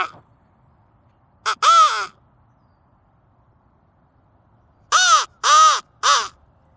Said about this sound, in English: Be very, very quiet. We're crow calling.